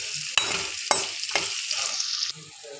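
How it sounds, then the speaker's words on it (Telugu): Onions frying in a pan for a country chicken curry sizzle steadily and close up, with a few sharp scrapes of stirring cutting through the hiss. "ఇప్పుడు ఆనియన్స్ వేసుకుందాం. ఆనియన్స్ బాగా వేగాలి."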